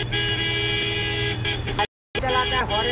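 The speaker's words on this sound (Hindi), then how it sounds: "हॉर्न ज्यादा मारता है" A car horn blares on a busy Hyderabad road in a long, sustained honk. It cuts out for a moment and then sounds again, with traffic noise and talk around it.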